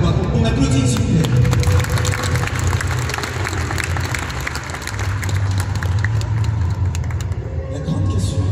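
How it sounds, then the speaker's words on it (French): An audience at a conference and live drawing session applauds, dense sustained clapping with crowd noise that stays loud throughout, with a voice speaking over it. "D'ailleurs, on applaudit s'il vous plaît."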